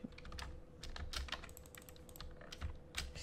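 Computer keyboard keys pressed in quick, irregular clusters of clicks during a Bedwars game, close and fairly quiet, with no talking.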